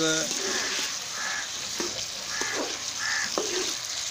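Onions sizzle steadily in hot ghee in a kadai, a constant hiss running under the whole stretch, while a crow caws several times and a voice briefly speaks at the start.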